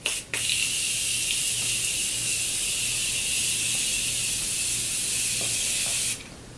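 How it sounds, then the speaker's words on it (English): A steady, continuous hiss of fine makeup setting spray mist runs for about six seconds without a break, then cuts off abruptly. "I do use a lot of setting spray. I really love the continuous mist on this."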